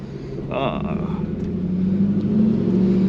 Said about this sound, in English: We're taking this 2000 Pontiac Trans Am WS6 Firebird Trans Am out for a spin.